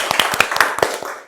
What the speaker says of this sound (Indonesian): Oke, tepuk tangan untuk semua.